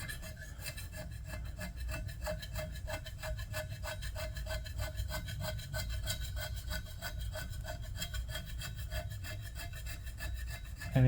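Blade dragged steadily across a metal plate to clear away milling shavings beside a Grizzly G0519 milling machine, a continuous rhythmic rasping scrape of even loudness throughout.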